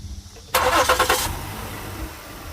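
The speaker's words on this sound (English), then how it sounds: "Turn the car on." A Ford Edge engine cranks and catches, a loud burst of starter and ignition noise that settles into a steady idle hum within about a second.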